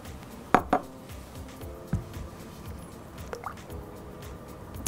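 Melted gelatine stirred into a mixture with a utensil in a bowl: soft repeated swishing strokes, a few sharp clinks of metal against the dish, and faint liquid dripping, close and quiet.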